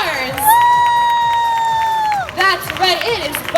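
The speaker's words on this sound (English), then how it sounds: "let's put those hands together and give a big warm welcome to your two stars" A crowd at a sea lion show cheers and whoops, with a loud sustained cry or whistle and children shouting, while an announcer's amplified voice carries over the audience noise.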